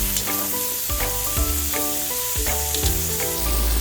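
Sweet potato frying in a pan for pinakbet, a steady loud sizzle with a sustained tone and rhythmic stirring scrapes about twice a second.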